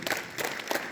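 Students clapping together in unison at a school assembly, a steady burst of crowd applause filling the short moment with no voices over it.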